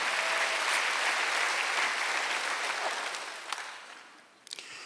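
Church congregation at a Wednesday service applauding, a full, close wash of clapping that holds steady, then thins and fades out with a few last scattered claps.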